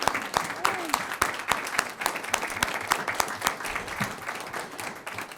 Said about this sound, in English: And we can clap for him again as we go on.